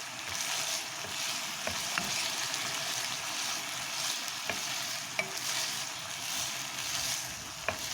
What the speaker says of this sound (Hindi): कीमा फ्राई हो रहा है।